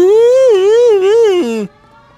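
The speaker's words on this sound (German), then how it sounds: "der kommt gleich wieder mit der Sirene." A police siren in the video game L.A. Noire wails up and down in loud, close rising and falling sweeps, then drops in pitch and cuts off abruptly.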